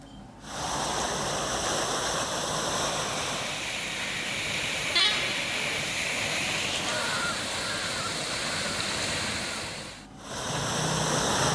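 Water gushes from a burst water pipeline in a steady, loud rush of broadband noise that holds for the whole stretch, dipping briefly near the end before surging back.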